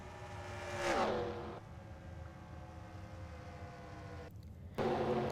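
Race cars in a racing video game at Daytona, with one car's engine sweeping past loudly with a falling pitch, then a steady lower drone, a brief dropout and a renewed burst of engine noise.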